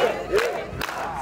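Church congregation at a Sunday service giving a brief burst of applause and cheering, a loud crowd swell that rises and falls twice in quick succession.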